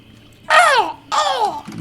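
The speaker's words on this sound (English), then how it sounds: "But as you kind of wake up, you hear the crow noises." A crow caws twice, harsh and loud up close, two rasping calls about half a second apart over a quiet background.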